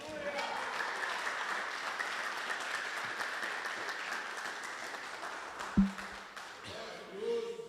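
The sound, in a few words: church congregation applauding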